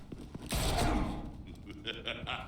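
Gunfire in the video game Batman: The Enemy Within, a loud close burst of shots followed by scattered sharper cracks, with game voices in the background.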